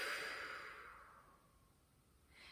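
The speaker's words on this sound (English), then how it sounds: "And open mouth, exhale." A long open-mouth exhale during a yoga breathing exercise, a breathy sigh that starts loud and close and fades over about two seconds, followed by a faint trailing breath.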